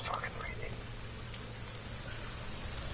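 Steady rain falling in a video game forest, a dense continuous hiss with a low hum underneath, moderately loud and unbroken.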